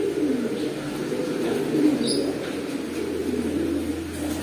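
Male pigeons coo nearby in a low, throaty, rolling rhythm, the repeated calls continuing steadily with a brief faint chirp partway through.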